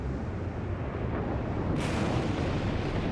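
A volcanic eruption sound effect: a deep, continuous rumbling roar that stays loud and dense throughout, with no voices over it.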